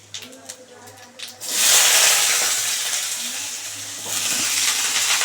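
Potatoes dropped into hot oil seasoned with panch phoron, bursting into a loud, close, steady sizzle that briefly eases and then swells again, after a few quiet clinks in the pan.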